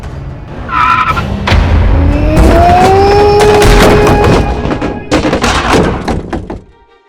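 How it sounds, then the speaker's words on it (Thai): Loud tire and brake screech sweeps over several seconds, followed by a heavy thunk and crunch as a car swerves and hits a roadside tree at low speed on a narrow lane, staged for an audio drama. "น้ำใสรีบหักรถหลบเสียงเบรกดังลั่นขึ้นมาแทบจะกลบเสียงกรีดร้องของลูกแก้ว"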